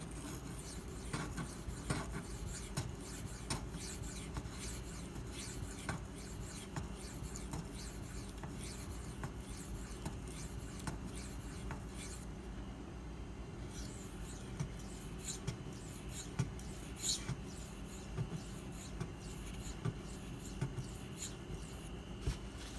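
Maxamet steel knife blade drawn across a 400 grit Nano Hones sharpening stone, giving a steady, close scraping rub that repeats in strokes for the whole stretch with no talk.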